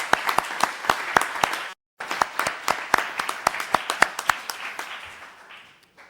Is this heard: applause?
yes